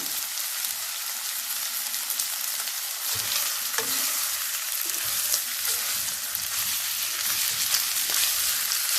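Sausage frying in a pan gives a steady, close sizzle with occasional clinks and scrapes as the links are stirred and turned, and no voices.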